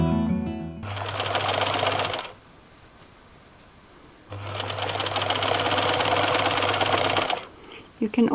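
A Bernina sewing machine stitches jumpsuit fabric in two long, steady motor runs with a quieter pause between, heard up close.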